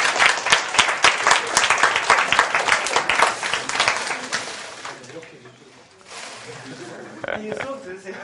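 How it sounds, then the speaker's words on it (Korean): Applause in a classroom, a dense round of clapping from students that lasts about four seconds and then dies away, followed by chatter and talking. "박수 한번 쳐주세요."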